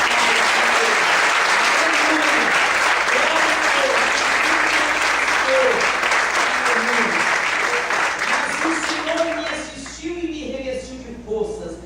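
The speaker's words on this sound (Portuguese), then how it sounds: "Você pode aplaudir ou não pode?" A church congregation applauds during a sermon, loud continuous clapping filling the hall for several seconds before tapering off at the end, with a few voices and a low instrumental tone underneath.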